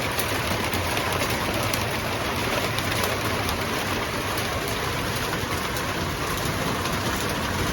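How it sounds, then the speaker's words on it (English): Heavy rain pours steadily on an off-grid homestead, a dense, loud, unbroken hiss of drops on surfaces that carries on throughout with no voices. "Heavy, heavy rain."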